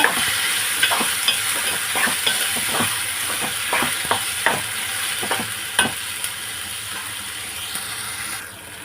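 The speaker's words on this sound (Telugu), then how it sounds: "ఆ టమాటాలు కూడా వేసుకుంటున్నాను. ఒకసారి కలుపుకుంటున్నాను." Frying tomatoes for a spicy mutton masala curry stirred in a pan, with steady sizzling under repeated sharp scrapes of the spoon at an irregular, roughly one-per-second pace, close and clear.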